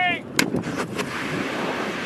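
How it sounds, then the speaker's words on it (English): A single loud military weapon shot during a training exercise, a sharp blast followed by a rumbling decay and wind noise, after a brief whistling tone at the start. "Firing!"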